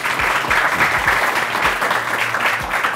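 An audience at a talk event claps together in a steady burst of applause that holds for a few seconds, close and fairly loud.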